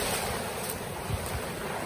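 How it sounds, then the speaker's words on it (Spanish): Calm ocean waves at a beach at Playa la Muelona in Jagüey, El Salvador: a loud, continuous wash of surf with wind noise buffeting the microphone, no voices. "El oleaje es calmado."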